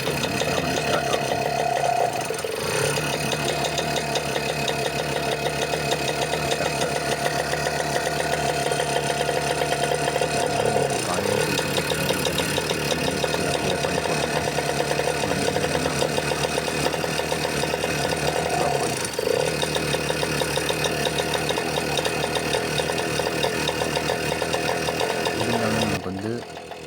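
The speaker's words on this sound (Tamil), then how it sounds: "வண்டி ஸ்டார்ட் ஆகும்." A Scooty ES scooter engine running after five years unused, idling with a continuous close, buzzy knocking putter for about twenty-five seconds before cutting off at the end.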